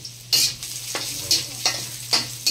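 Ginger stirred in a sizzling cooking pan, a spatula scraping in about six quick, loud strokes at a steady rhythm over a constant fry hiss.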